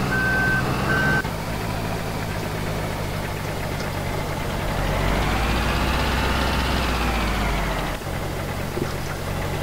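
A truck in Farming Simulator 2013 reversing with a steady repeating electronic beep over a loud droning, knocking engine, the engine note rising and falling as it labours.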